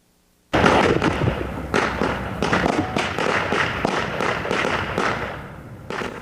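Firecrackers go off outdoors as a dense crackle of rapid pops and thumps that starts suddenly and stays loud, with no talking.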